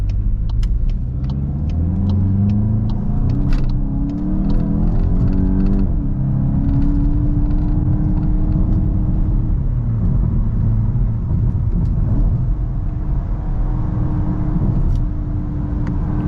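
A 2022 VW MK8 GTI S accelerates hard from inside the cabin, its engine rumbling loudly with a rising drone that drops at gear shifts and climbs again, steady road roar throughout.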